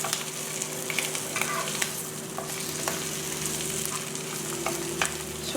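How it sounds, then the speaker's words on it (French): Turkey bacon slices frying in a pan over medium heat, a steady, dense sizzle and crackle that runs unbroken from start to finish with no voices. "tranches de bacon, juste environ 5 minutes. Il faut les faire légèrement griller."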